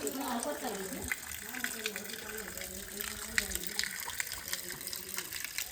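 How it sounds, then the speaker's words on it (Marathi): Water flows steadily down from above at a temple spring in a continuous splashing gush, with faint voices in the background. "हे बघा वरतून कुठून तरी पाणी येतं"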